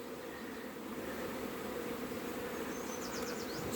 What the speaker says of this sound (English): So we've got quite a few bees in here.